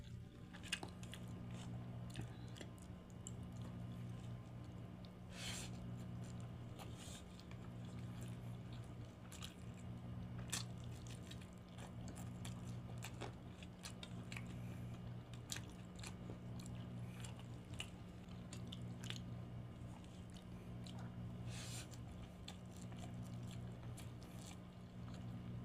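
Close-up mukbang eating of pansit noodles with a piece of chicken: steady wet chewing and biting, soft crunches and squishy mouth noises repeating for the whole stretch over a low constant hum, with no talking.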